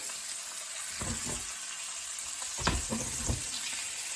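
A hake fillet pan-fries skin-side in a hot pan, with a steady, close sizzle broken by a few soft knocks and scrapes from handling.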